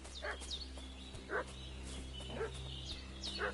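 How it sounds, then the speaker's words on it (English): In the video game Kingdom Come: Deliverance II a dog barks four times at a moderate distance, the yips coming at irregular intervals over a steady low hum of game ambience. "Да, тут пес гавкает."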